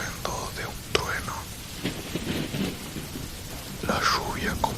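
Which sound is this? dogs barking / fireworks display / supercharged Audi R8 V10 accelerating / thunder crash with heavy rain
thunder crash with heavy rain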